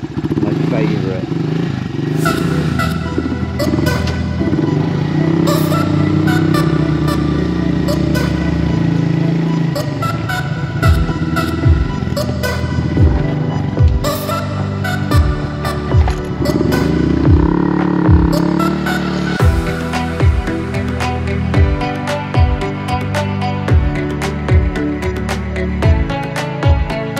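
A Honda Monkey motorbike on mountain roads in Slovakia: a loud, throbbing single-cylinder engine note rises and falls through repeated gear shifts and revs, with wind noise throughout.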